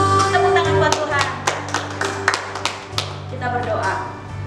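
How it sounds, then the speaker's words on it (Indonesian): Hands clapping at a children's Sunday school church service in Makassar, with a steady series of sharp claps over sustained music and voices in a roomy space. "Tepuk tangan buat Tuhan."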